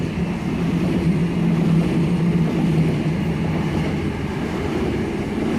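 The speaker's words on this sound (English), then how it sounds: "We should have an M set passing platform number 1 at Turrella for a City Circle service." Electric M set double-deck train on a City Circle service passing platform 1 at Turrella station, a steady, loud low rumble and rolling hum close by, with no voices.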